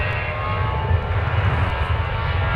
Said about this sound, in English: That's an Airbus. CFM 56. Unmistakable sound. On this A320.